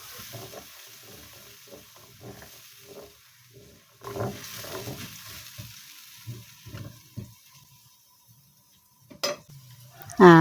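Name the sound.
sautéing lemongrass and onion with blended spice paste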